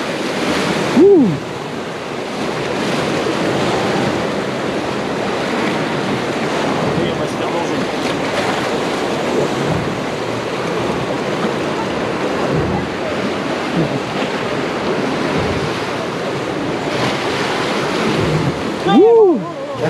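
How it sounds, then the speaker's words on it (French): Loud, continuous rush of churning water and surging waves from a wave pool's wave generator at Holiday Park in Germany, close by, with wind buffeting the microphone and brief vocal exclamations near the start and end. "Générateur de vagues."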